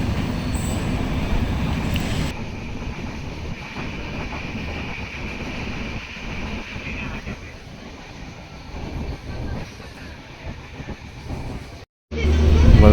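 Konkan Railway Janshatabdi express slowing to a halt, a steady rumble of wheels on track with faint squeal and clatter that fades toward the end, then a sudden quiet break before a loud burst of noise.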